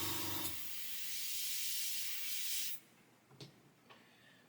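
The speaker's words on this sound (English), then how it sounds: "Let me get the airbrush to dry it off." An airbrush blowing air to dry paint on a 1/48 scale Airfix Sea King model kit, a steady close hiss lasting a few seconds before cutting off, followed by a couple of faint clicks.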